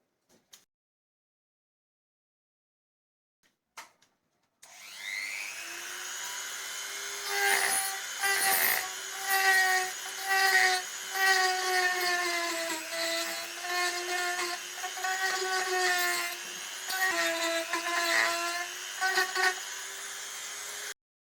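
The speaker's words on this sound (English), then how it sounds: "use this cone-shaped router bit to dig out the crack and fill them with Milliput" Router fitted with a cone-shaped bit digging cracks out of a turned wooden milk churn, a whining motor that spins up after a couple of faint knocks, with its pitch dipping and rasping as the bit bites into the wood.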